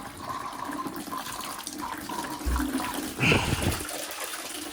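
Water from a radiator is dumped into a bucket, giving a sustained watery rush and gurgle that swells into a louder splash near the end.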